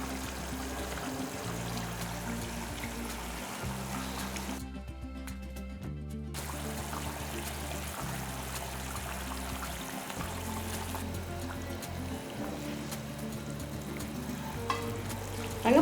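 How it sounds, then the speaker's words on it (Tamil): Fish curry bubbling in a pot as pieces of fish are added, a steady sizzling, boiling wash with a short quieter gap, heard on its own without talk. "நல்லா கொதிச்சுக்கிட்டு இருக்கு பாருங்க இந்த ஸ்டேஜில் தான் நம்ம என்ன பண்ணணும் இந்த மீனெல்லாம் எடுத்து போடணும்"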